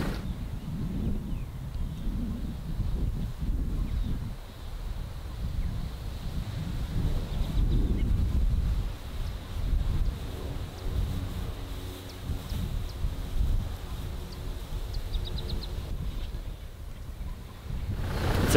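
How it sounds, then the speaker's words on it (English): Strong gusting wind on a cold, blustery morning buffets the microphone in uneven rushes and lulls, with low rumbling and a faint hiss throughout. "cold, blustery morning with a lot of wind"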